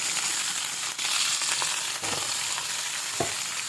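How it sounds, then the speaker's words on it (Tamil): Brinjal pieces frying lightly in hot oil for spicy kara kathirikai give a steady, close, dense sizzle, broken by a couple of soft stirring knocks. "இப்போ லைட்டாக இந்த எண்ணெயில் லைட்டாக பறிச்சிடணும்"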